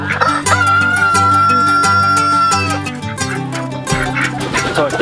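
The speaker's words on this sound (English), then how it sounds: "the chickens and how they're doing in their new winter chicken coop." Chickens cluck and a rooster crows inside a winter chicken coop, loud and close, with continuous layered calls over a steady background hum.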